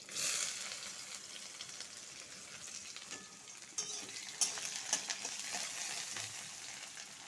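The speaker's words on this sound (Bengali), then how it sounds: "আর পেঁয়াজটা ঢালবো।" Chopped onion goes into a pan of hot oil with garlic and chillies, bursting into a loud sizzle at first, then a steady frying hiss with occasional stirring scrapes and clicks, no talking.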